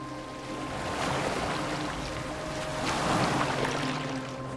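A boat sails across open water in the Assassin's Creed Valhalla video game, with a continuous broad wash of waves and hull rush rising and falling over a low steady hum, alone without speech.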